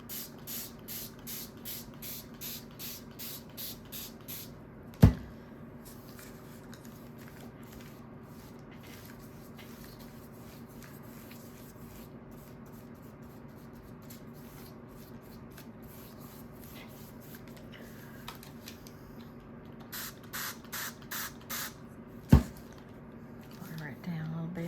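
Repeated quick hissing spritzes from a spray bottle spraying paint, a burst at the start and another near the end, with a couple of sharp clacks between them.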